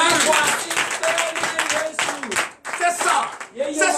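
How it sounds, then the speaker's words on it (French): Church congregation clapping during a Sunday worship service, rhythmic hand claps mixed with loud singing and speaking voices, rising and dipping in uneven bursts. "Donnez l'acclamation, je suis"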